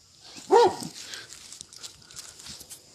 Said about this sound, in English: a big loud dog